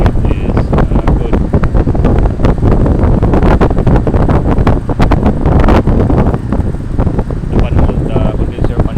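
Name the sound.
air conditioner outdoor unit condenser fan motor running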